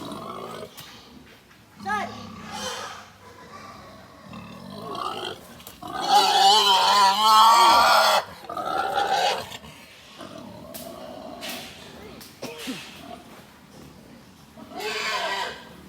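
Fattening pigs squeal loudly and grunt as they are unloaded for sale, a long shrill squeal rising in the middle amid scattered grunts, with people talking around them throughout.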